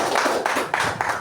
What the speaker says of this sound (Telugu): కావాల్సిన మీ అందరూ కూడా గట్టిగా చప్పట్లు కొట్టారు